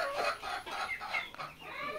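Laying hens and roosters kept for sale cluck in short, close bursts over a couple of seconds, with no people talking.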